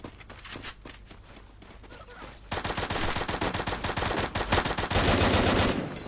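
Rapid bursts of automatic gunfire in a video game, sparse and scattered at first, then a dense, loud sustained barrage of shots with footsteps mixed in.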